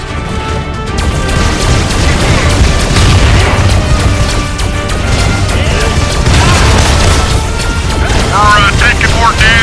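Cannons are blown apart in the Skylanders Trap Team video game amid loud, continuous booming explosions and crashing effects under game music, with a voice speaking over the action.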